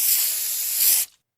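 A spray can hisses out graffiti paint in one steady, bright blast lasting about a second, loud and close, then cuts off sharply.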